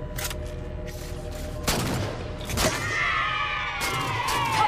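Gunfire and explosions in the video game Halo 4, with sudden loud blasts and bursts of shots over a steady combat background, followed by a rising whining sweep of weapon or vehicle noise.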